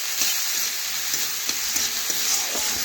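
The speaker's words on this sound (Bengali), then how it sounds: "এখন ভালোভাবে নাড়াচাড়া করে একটু ভেজে নিচ্ছি আদা জিরে বাটা দিয়ে" Ginger-cumin paste and tomato pieces fry in a pan for a vegetarian dal, a steady close hiss of sizzling broken by the soft scrape and tap of a spoon stirring every second or so.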